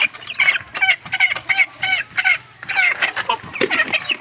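Backyard hens cluck repeatedly up close after feeding, a busy stream of short clucks and squawks with no talking.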